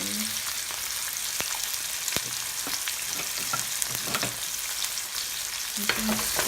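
Salmon with chopped green onion and caramelizing peppers fries in a pan, a steady bright sizzle broken by scraping stir strokes and a few utensil clacks, close up and without talk.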